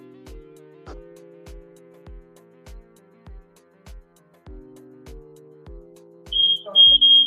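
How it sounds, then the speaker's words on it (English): A smoke or fire alarm sounds a steady train of evenly spaced electronic beeps, about two per second, at moderate level over a low sustained tone. Near the end a sharper, high-pitched chirp joins in and grows louder. "Fire alarm going off, man."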